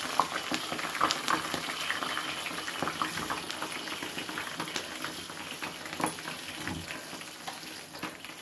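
Hibiscus leaves and fenugreek seeds simmer in water in a small pot, giving a steady close bubbling and faint sizzle with scattered soft pops throughout.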